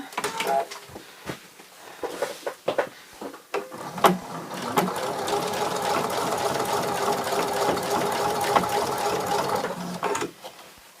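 A sewing machine stitches from fabric to fabric. A few scattered clicks and handling noises come first, then a steady, close whirring run of rapid stitching lasts several seconds before it stops.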